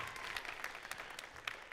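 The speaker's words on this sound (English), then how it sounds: "give him a round of applause" A high school jazz concert audience claps in a short, dense burst of applause, a steady wash of hand claps with no voices.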